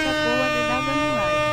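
A Volvo FH16 truck in Petrobras livery sounds its air horn in a video game, a steady, loud, sustained blare running throughout while someone talks over it.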